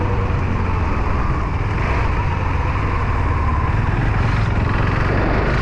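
A KTM Duke motorcycle ridden solo on an evening road through a forest buffer zone, its engine and wind roar a steady, loud, continuous drone with no talking.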